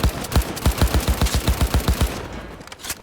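Rapid automatic gunfire in Cyberpunk 2077 Phantom Liberty, a steady burst of about a dozen loud, close shots for two seconds, then a brief lull and one final shot.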